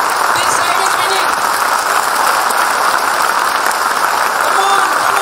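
Sustained, loud applause from a school annual day crowd, a thick unbroken roar of clapping hands that stays level from start to finish.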